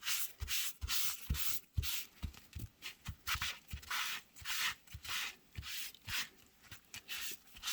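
Distress Oxide ink is rubbed onto Distress cardstock in quick back-and-forth strokes, producing a close, soft scuffing sound with a steady uneven rhythm.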